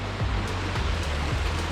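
A creek flowing along the Great Ocean Road near a hidden waterfall gives a steady, dense rush of running water, continuous and fairly close, with no voices.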